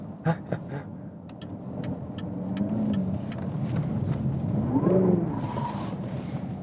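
Steady, low engine rumble from a 2018 Cadillac CTS-V Carbon Black Edition cruising at moderate speed on wet roads, swelling gently mid-clip, with faint clicks near the start.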